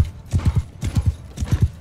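Horse hooves clop in a fast galloping rhythm in Mount & Blade II Bannerlord, close and clear, with grouped beats repeating about three times in quick succession.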